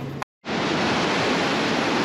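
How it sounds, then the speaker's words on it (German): Loud, steady roar of rushing water at Hooker Falls rapids on the Waikato River in New Zealand, dense and continuous apart from a brief silent break near the start. "Die Hooker Falls am Waikato River, dem längsten Fluss Neuseelands."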